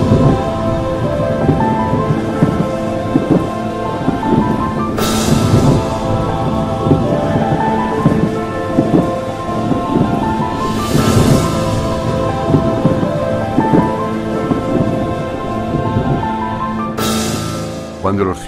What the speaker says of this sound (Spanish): Llega la lluvia.